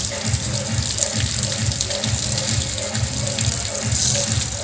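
Water gushes steadily from a homemade 12V DC motor water pump, loud and close, with a rhythmic mechanical pulsing throughout.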